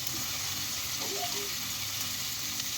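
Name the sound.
cumin and onion frying in a pan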